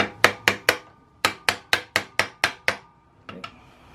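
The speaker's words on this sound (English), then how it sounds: "you can probably stick the Allen wrench in there and just hit it" A hammer strikes an Allen wrench to knock a bolt out of a bicycle primary drive, a run of sharp metallic taps in two quick bursts followed by two lighter hits, close and crisp with no voices.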